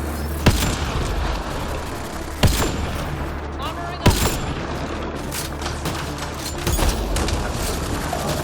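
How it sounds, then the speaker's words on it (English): Sniper rifle shots in Mass Effect Andromeda ring out as four sharp, loud cracks spaced a second or two apart over a dense, rumbling battle din with steady background noise. "at least it gets absolutely wrecked by my sniper rifle"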